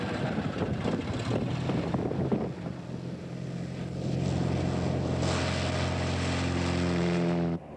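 A propeller airplane drones steadily in flight, a loud, sustained engine hum with wind rush that rises and holds near the end.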